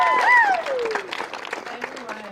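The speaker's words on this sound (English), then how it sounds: "let's get a round of applause for Nikita" Student crowd at a UT Austin walkout for reproductive justice and transgender rights breaks into applause with a rising whoop or cheer, then the clapping thins out as the noise settles.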